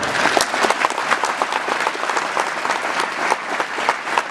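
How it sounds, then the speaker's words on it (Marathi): An audience breaks into dense, sustained applause for poet Devanand Pawar at a Marathi poetry recital, loud and steady throughout with many hands clapping at once. "या सगळ्यात जोरदार टाळ्या देवानंदसाठी"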